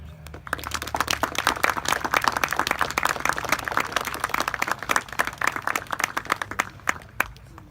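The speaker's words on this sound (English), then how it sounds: "give a round of applause to our reenactors here today" A crowd at an outdoor French and Indian War reenactment at Fort Halifax claps steadily for several seconds for the reenactors, a dense patter of many hands that thins out toward the end.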